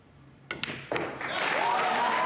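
Crowd at a 2024 US Open pool semifinal between Shane Van Boening and Joshua Filler, a couple of sharp knocks and then swelling applause and cheering that builds into a steady loud roar.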